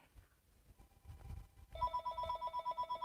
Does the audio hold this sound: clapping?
no